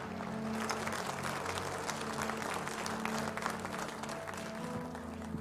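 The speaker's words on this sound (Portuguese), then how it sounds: "Você pode aplaudir ao Senhor pela vida da Juliana." Congregation in a church applauding together, a steady dense wash of clapping hands held at an even level throughout, with a low sustained hum from instruments or amplification underneath.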